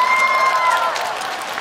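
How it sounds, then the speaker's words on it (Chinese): Concert audience applauding at a Triple Jam show in Chongqing, a steady wash of clapping that stays loud and even throughout, with a faint held tone fading early under it. "你们没有鼓掌啊，拍手，谢谢"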